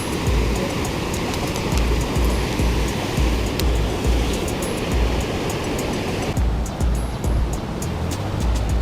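High, fast river running in flood after heavy water, a loud continuous broadband roar of rushing current that stays steady and close throughout, with no talking.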